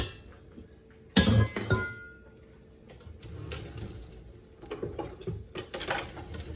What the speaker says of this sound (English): And scrape the sides of the bowl